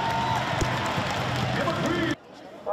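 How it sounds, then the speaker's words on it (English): A stadium crowd at a Volleyball Nations League match cheers and beats stick balloons, a loud, dense roar with rhythmic thumping that cuts off abruptly near the end, leaving near silence. "Stick balloons were seen throughout the stands and used to cheer on players."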